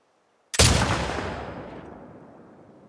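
A single loud gunshot fired at a red sign in The Last of Us Part 2, bursting sharply out of silence and trailing off in a long, fading echo.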